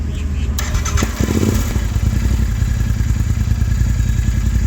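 Royal Enfield Interceptor 650 fitted with an S&S camshaft idles close by, a steady low, pulsing thump after a brief clattering start, with a voice talking over it.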